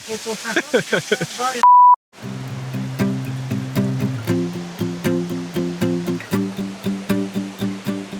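Waterfall in Ubud, Bali, giving a steady broadband rushing roar that runs under people talking, after a brief electronic beep near the start.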